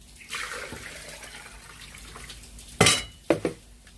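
Water poured from a tap into a pot of beef bones for a Malaysian gearbox soup, a close splashing stream followed by sharp clinks of metal against the pot.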